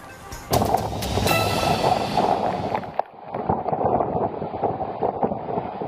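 Strong typhoon wind in Cagayan, Philippines roars and buffets the microphone in loud, gusting waves, with rushing noise that briefly dips before surging again.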